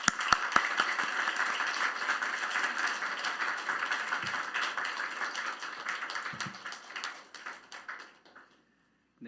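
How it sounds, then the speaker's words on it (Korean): A church congregation at a Wednesday summer night prayer meeting claps to welcome the pastor; a few sharp early claps build into steady, moderately loud applause that thins and fades out over about eight seconds before a brief sound at the end. "우리 고상선 목사님 나오실 때 우리 커맨시 교회 큰 환영의 박수로 목사님 맞이하도록"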